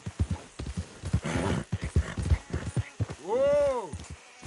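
In the Red Dead Redemption video game, a horse's hooves beat out a quick, rhythmic clip-clop, followed by a loud whinny. A voice is heard in between.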